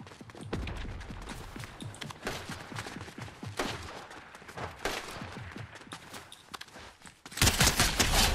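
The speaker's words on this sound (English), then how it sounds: "Twin mag assault rifle." Rapid bursts from a Twin Mag assault rifle in Fortnite, a fast string of loud gunshots through most of the stretch, with a louder, denser burst of fire near the end.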